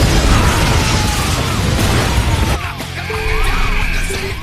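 A film explosion set off by a woman, heard as a loud, dense crashing roar with debris and rumble that runs for a couple of seconds before cutting to quieter tones and low rumbling.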